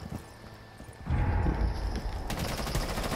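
Gunfire in the Rainbow Six video game starts after a quiet moment as a dense, rapid rattle of shots that keeps going to the end, loud and close, with no talk.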